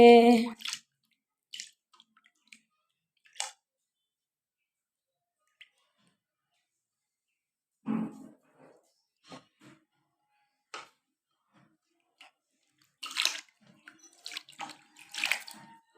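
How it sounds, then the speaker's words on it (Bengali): Water poured over a Gopal deity idol during a bath, coming in a few scattered splashes and trickles separated by long quiet gaps, with a busier run of splashing near the end. "ওরা বেশি বেশি জল দিয়ে স্নান করছে"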